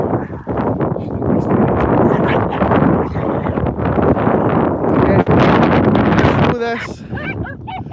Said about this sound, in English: It's windy, yeah. It's wild.